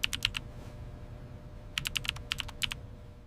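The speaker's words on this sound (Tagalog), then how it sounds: "I use a keyboard to type." Someone types on a computer keyboard, quiet and close. A quick burst of keystrokes is followed by a pause, then two more bursts of sharp clicks, with no voice.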